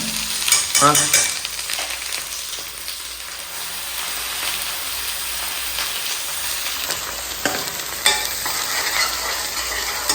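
Spices sizzle and crackle in hot oil as a tempering for shahi paneer gravy while a utensil scrapes and stirs the pan; a brief spoken word is heard near the end.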